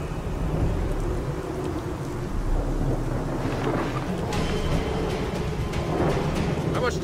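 Stormy wind flare in the video game Gears of War 4, with heavy rain and rolling thunder rumbling steadily and loudly throughout, scattered gusts and crackles rising over the constant roar.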